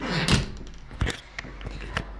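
A hostel's hallway entrance door in Cologne swings shut with a solid thud, followed by a few lighter knocks and clicks in a small indoor space.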